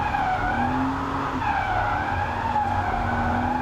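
A BMW E36 328i race car slides on a wet Silverstone circuit during an endurance race, with a steady close engine drone and rising, wavering tyre squeal that holds for several seconds at an even, loud level.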